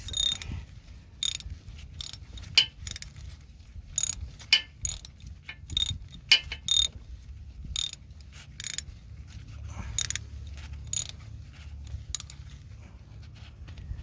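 Ratchet wrench clicks in repeated short bursts while bolts are tightened on the stepper motor of a Nissan CVT transmission, close and crisp against a quiet low background.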